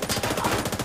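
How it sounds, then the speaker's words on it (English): Rapid automatic gunfire in The Division 2 video game, a loud, close burst of evenly spaced shots that fills the whole moment. "What the hell is he firing at?"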